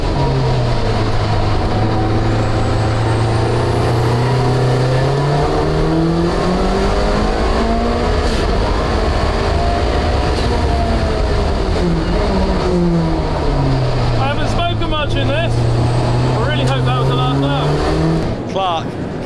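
An Audi A3 race car competing in a British motorsport Thunder race roars past, its engine note rising and falling through gear changes under continuous loud commentary.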